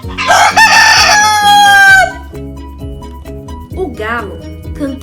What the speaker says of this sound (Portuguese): O galo cantava cedinho e acordava todo o galinheiro.